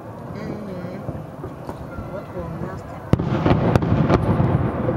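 Festive fireworks bursting over Moscow, seen from a high-rise building: continuous distant rumbling crackle with several sharp booms in the second half, fairly loud.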